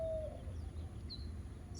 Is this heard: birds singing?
yes